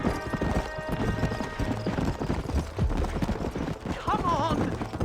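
Horse hooves gallop in a fast clip-clop rhythm while riding in the video game Red Dead Redemption, mixed with music and a brief whinny near the end.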